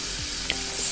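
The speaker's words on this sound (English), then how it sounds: "now I'm frying some chickpeas." Chickpeas fry in hot mustard oil with a soft, steady sizzle and a faint stir or two, brief and close with no voices.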